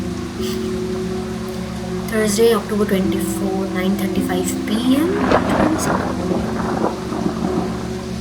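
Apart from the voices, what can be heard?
heavy rain and thunder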